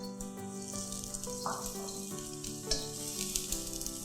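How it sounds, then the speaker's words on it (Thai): Bean sprouts sizzle and crackle steadily in hot oil in a pan, with clinks and stirring scrapes scattered through, fairly close and with no talk. "น้ำมันร้อนสักครู่ค่ะ ก็ใส่ถั่วงอกลงไปเลยค่ะ"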